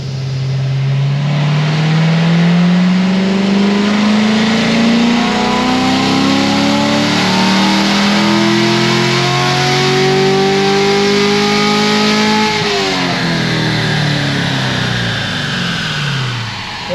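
A tuned car engine on a dyno roars through one long wide-open pull, its pitch climbing steadily through the gears for about twelve seconds before it drops off sharply, loud and close throughout.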